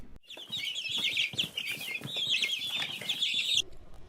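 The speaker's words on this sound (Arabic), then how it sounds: "كتكوت." Chick cheeping on a farm, a dense run of high, rapid peeps lasting a few seconds, fairly close and steady, with no talk.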